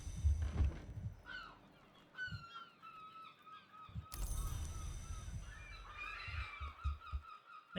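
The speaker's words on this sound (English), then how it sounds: "And my chickens are upset." Agitated farmyard birds in the video game Book of Hours, calling in scattered honking and squawking bursts amid brief thumps, fairly quiet overall with no talking.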